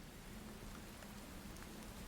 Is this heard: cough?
no